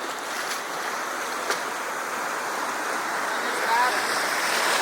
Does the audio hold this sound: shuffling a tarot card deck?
no